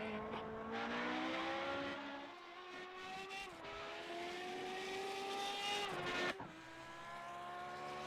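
A Kamel GT EVO race car laps Interlagos in iRacing, its engine note climbing steadily through the gears with brief lifts and downshifts, loud and continuous, no voices over it.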